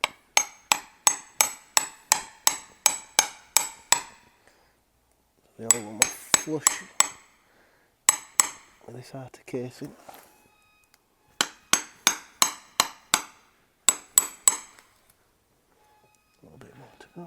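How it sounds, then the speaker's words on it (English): Bursts of rapid, ringing metallic hammer blows on a socket against an Audi A5 3.0 TDI quattro gearbox, close and loud, with someone talking during the pauses between strikes. "we're going to need to get a socket and an hammer"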